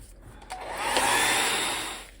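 A hair dryer blows over paint on a journal page, rising to a steady, loud airy whoosh that holds for over a second before easing slightly, with no talking.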